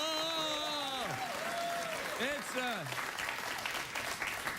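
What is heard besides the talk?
studio audience applause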